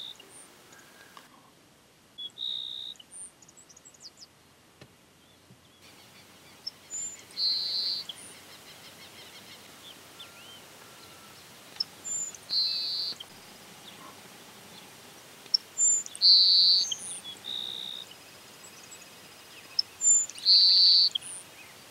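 Song of the yellow-browed sparrow (cachilo de cejas amarillas), a grassland bird of rural areas that sings from posts, wires, tall grass and shrubs: short, high, buzzy phrases repeated every few seconds, moderately near over a faint insect hum.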